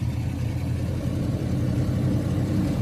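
A 1989 Dodge Ram truck's engine runs at a steady, low, rumbling idle close by, a continuous drone with no talking.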